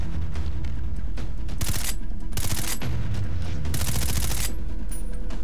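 Rapid automatic gunfire rattles through a Far Cry 3 firefight against pirates, with several loud, close bursts of sustained shooting over a heavy, rumbling game background.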